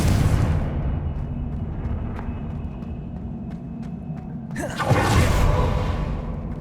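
Confringo blasting curse in Hogwarts Legacy on PS5: a low, rumbling bed of game ambience, then a sudden rising swoosh that bursts into a loud, broad explosive blast which lingers and fades.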